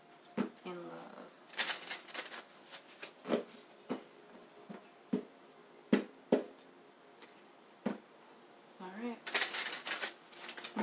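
Cards riffle and snap in short bursts, shuffled repeatedly with pauses between, close and fairly quiet.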